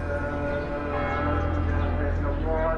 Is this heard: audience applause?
no